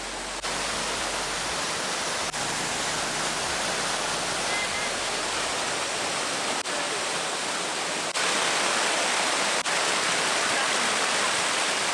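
A steady, dense roar of a waterfall in Chiang Mai, Thailand, loud and unbroken throughout, with no clear voices standing out.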